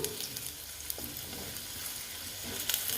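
Potatoes fry in a covered pan for an egg capsicum masala, giving a dense, steady sizzle up close with a few sharp pops and faint stirring over about three seconds.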